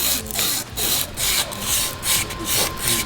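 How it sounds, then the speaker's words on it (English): Rhythmic back-and-forth scrubbing on the corroded metal surface of a turbo hose fitting on a V6 Toyota Camry build, about six steady strokes, close and fairly loud, with no talk. "I'm going to start by just giving it a bit of a scrub up"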